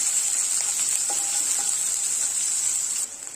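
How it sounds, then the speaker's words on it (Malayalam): Chopped shallots sautéing in a pan for parippu curry give a steady, close sizzle with faint stirring scrapes, the hiss dropping slightly near the end. "ഇനി ഇതിലേക്ക് 6 ചെറിയുള്ളി ചെറുതായിട്ടൊന്ന് കട്ട് ചെയ്ത് വെച്ചിട്ടുണ്ട്, ഇത് ചേർത്ത് കൊടുക്കാം. ഇതൊന്ന് വഴറ്റി കൊടുക്കണം"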